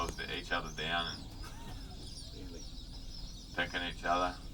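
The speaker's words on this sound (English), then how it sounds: "We've got bird fights going on out here now too, the egrets." Egrets squabble and fight among wading birds at Yellow Waters in Kakadu, giving harsh raspy squawks in two bursts over steady outdoor ambience with a low motor hum.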